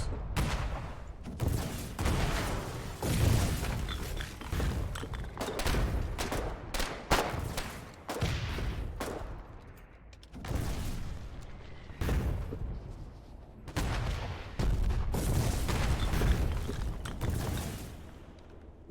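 Repeated grenade explosions and bursts of gunfire in frontline combat in the video game Foxhole, dense and loud throughout, with heavy booms and rapid shots layered over one another and no pauses in the fighting.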